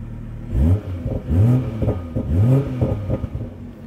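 A 2020 BMW M340i engine starts and revs in three close, loud blips that rise and fall, then settles into a steady idle.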